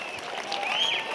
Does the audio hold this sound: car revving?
no